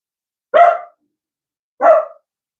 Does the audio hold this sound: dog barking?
yes